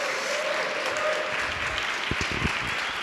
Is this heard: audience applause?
yes